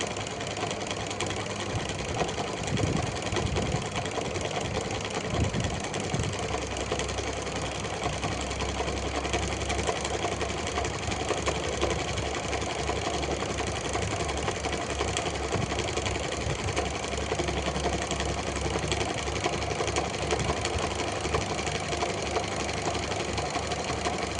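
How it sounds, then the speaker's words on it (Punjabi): An automatic sewing machine used for blocking, picot and embroidery runs continuously, a steady, close mechanical whir and rattle with an even, unbroken rhythm and no talking. "ਇਹ ਜਿਹੜੀ ਮਸ਼ੀਨ ਹੈ ਆਪਣੇ ਕੋਲ ਇਹ ਬਲੌਕ ਵੀ ਕਰਦੀ ਆ ਪੀਕੋ ਵੀ ਕਰਦੀ ਆ ਮੈਂ ਇਹਦੇ ਨਾਲ ਕਢਾਈ ਵੀ ਕਰ ਲੈਂਦੀ ਹਾਂ"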